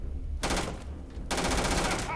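Automatic gunfire in the space video game Starfield, with two sustained bursts of rapid, loud shots, the first brief and the second longer, over steady game background noise.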